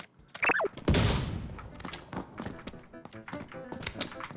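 A thrown grenade bursts on the ground in a PUBG-style shooter: a sudden loud, close blast followed by scattered debris thumps and softer clicks fading away.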